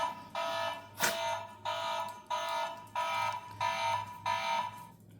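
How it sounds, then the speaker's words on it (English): A driveway alarm sounds from inside a home, sending out a steady series of loud, evenly spaced electronic beeps, about six bursts each lasting roughly half a second, with no talking over them. "That's my driveway alarm."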